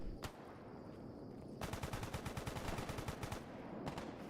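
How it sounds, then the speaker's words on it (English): In the video game S.T.A.L.K.E.R. GAMMA, machine-gun fire cracks out in a single shot and then a rapid sustained burst lasting about two seconds, followed by a few more shots, loud and close, with no talking. "As soon as I get in here, a lot of gunfire."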